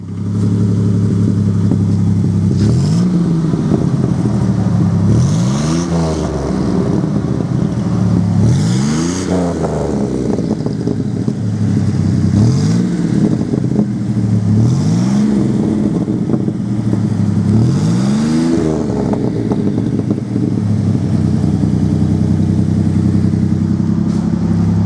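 A 1980 Buick Regal with a draw-through turbo rumbles loudly and close at a steady idle, broken by six repeated revs that rise and fall, each a few seconds apart.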